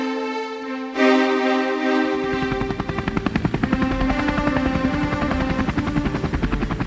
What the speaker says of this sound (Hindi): हेलीकॉप्टर आ गया, हेलीकॉप्टर आ गया।